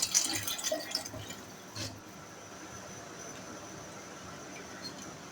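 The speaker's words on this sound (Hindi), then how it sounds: "मेथी दाने का पानी जिसे मैंने भिगोया था ये मैंने अलग कर लिया था। अब ये भी मैं इसमें शामिल कर रही हूँ।" Soaked fenugreek seed water is poured into rice for khichdi, giving a faint, brief splash and trickle at the start before it settles into quiet background.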